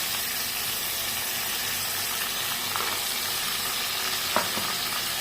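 Onion and tomato paste with spices fries in a pan, giving off a steady, close sizzle and hiss that carries on evenly throughout, with a faint stir or scrape near the end and no voices.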